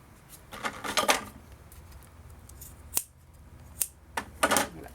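Scissors snipping excess paper from the edge of a notebook cover: a few separate crisp cuts, a cluster early on and then sharp single snips spaced apart, close and fairly quiet.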